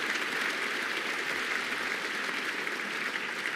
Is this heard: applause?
yes